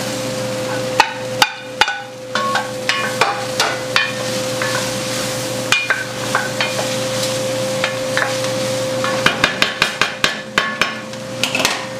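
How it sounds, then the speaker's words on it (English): Onions and garlic sauté in a pan, a steady soft sizzle punctuated by sharp, irregular knocks and scrapes of a utensil against the pan, loud and close, with no talking. "the onions are pretty much cooked. I've just added in the garlic now. I'm just letting that cook a bit."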